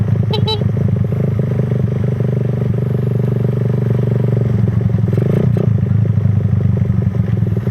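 Suzuki Raider 150 motorcycle engine revving hard in a race, a loud steady buzzing drone that holds throughout with slight pitch shifts and a brief surge near the end, close and continuous.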